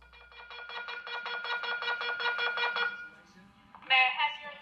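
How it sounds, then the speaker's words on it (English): A hotel alarm at the Cosmopolitan Hotel on the Las Vegas Strip: rapid electronic pulses repeat steadily for about three seconds, then stop, and a voice briefly begins speaking. "That was the sound of an alarm that was heard throughout the Cosmopolitan Hotel Saturday morning"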